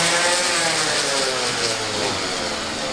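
A power sander smooths the cut edge of a boat's windshield opening during portlight replacement, a steady loud whir with gritty buzzing that runs without pause for a few seconds, with no talk over it.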